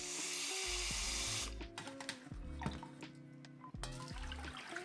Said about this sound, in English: Rinse rice 3 to 5 times for chestnut rice.